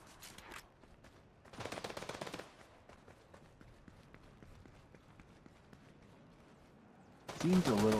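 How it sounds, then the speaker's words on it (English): Bursts of rapid machine-gun fire in a video game crackle in short volleys, one fairly distant early on and a louder, closer burst at the end, with quieter clatter between. "I hear gunshots."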